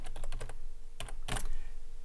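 Rapid keystrokes on a computer keyboard come in close bursts while a SQL query is written, with a short pause and then a denser cluster of clacks.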